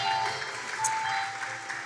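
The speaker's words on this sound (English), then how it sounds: "I should wait till the applause dies down." An audience at an arts and culture grant ceremony applauds in a steady, even wash of clapping that fills the short moment, with no voices over it.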